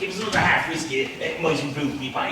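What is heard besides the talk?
No distinct noise like a dog, phone or traffic.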